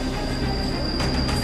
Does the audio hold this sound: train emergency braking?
yes